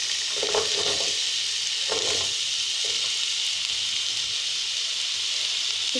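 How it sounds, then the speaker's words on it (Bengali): Potatoes fry with onions in hot oil, a steady close sizzle broken by a few scraping stirs early on before settling into an unbroken hiss, with no speech. "পেঁয়াজটা একটু ভাজা ভাজা হয়ে গেছে, আলুগুলো এতে দিয়ে দিচ্ছি"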